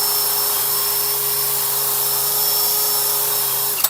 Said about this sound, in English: And then I'm just using a wire brush